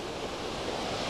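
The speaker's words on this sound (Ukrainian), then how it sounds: "Бо там вітер задуває" Steady broadband wind rushing while spin fishing for perch, buffeting the microphone with a continuous roar and no pauses or voices.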